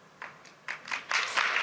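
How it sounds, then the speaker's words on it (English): Scattered applause from a small audience, a few claps at first building into denser clapping toward the end, fairly faint and with no one talking. "I love the applause"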